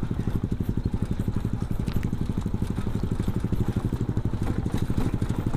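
A motorcycle fitted with a TKRX racing exhaust runs close by, a loud, rapid, throbbing engine pulse held steady at idle-like revs, with no talking over it.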